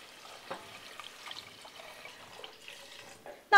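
Water is poured into a pot for a vegan Hungarian mushroom soup, giving a quiet, brief splashing trickle with a short louder knock at the very end.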